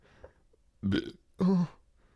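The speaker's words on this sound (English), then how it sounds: "That was internal burp." Two short, loud burps in quick succession, the second longer and fuller, with a faint small sound just before them and no talking.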